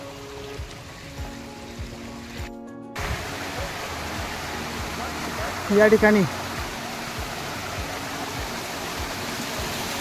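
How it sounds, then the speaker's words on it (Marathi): A strong stream rushes across the hiking trail at Karnala Fort, making a steady, close, broadband roar that fills the whole clip. A voice speaks briefly over the water. "पाण्याचा जोर जास्त आहे,"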